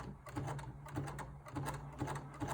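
A sewing machine runs a zigzag stitch along a cloth face mask, giving a faint, steady, rhythmic whirring with regular needle pulses roughly twice a second.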